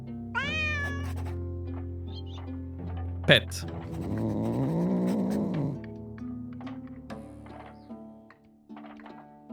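Cartoonish cat meows from the pixel-art action RPG Drova - Forsaken Kin, a sharp meow at the start followed by a longer rolling purr-like cry, with a voice speaking over parts of it.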